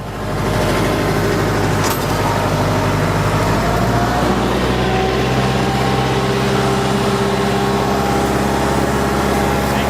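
Tractor pulling a moldboard plow through a grassy field, level in the furrow: a steady, loud engine drone with a constant low rumble running throughout, no voices.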